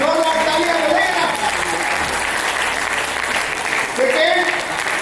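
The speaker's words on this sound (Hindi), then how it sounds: "Please put big round of applause." An awards-night audience in Lucknow applauds steadily, a dense wash of clapping that holds for several seconds, with a voice briefly audible over it near the end.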